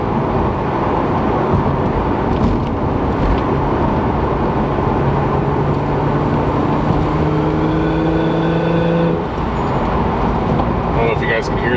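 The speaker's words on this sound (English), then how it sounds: "I can hear the wastegate opening" A turbocharged Lexus IS300 with a CX Racing turbo kit and a 4-pound wastegate spring revs up, its engine note climbing in rising tones before easing off, with a faint wastegate hiss near the end.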